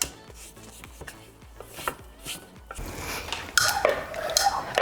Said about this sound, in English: So we're just going to scrape down the bowl.